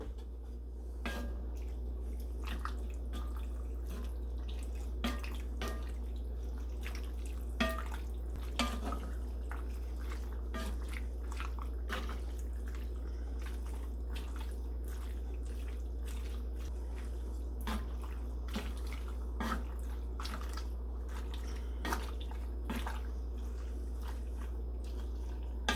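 Rigatoni pasta is poured into sausage in a Dutch oven and stirred, giving scattered clinks, scrapes and soft wet squishes over a steady low hum, fairly quiet and unhurried.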